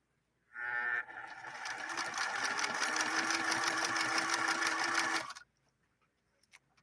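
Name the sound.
Singer Merritt 1872 sewing machine stitching a zigzag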